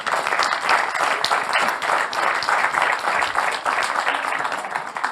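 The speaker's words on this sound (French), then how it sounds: "Applaudissons-le d'abord." Audience at an evening monetary event applauding a former Banque de France governor, a dense, even burst of many hands clapping close by, loud and sustained with no talk over it.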